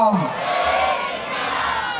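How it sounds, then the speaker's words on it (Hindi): A crowd at a Hindu community gathering in Shajapur raises a loud collective chant, a sustained roar of many voices close by, with no other sound over it. "एक बार जोरदार ताली बजाएं, सबके हाथ खुल जाएं और जय घोष एक बार"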